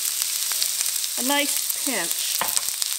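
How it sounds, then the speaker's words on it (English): Diagonally sliced carrots and onion fry in a pan with a constant bright sizzle and a few light utensil ticks, while a person speaks briefly over it. "some carrots that are sliced on the diagonal, some onion, and I just want to let those just cook just a little bit"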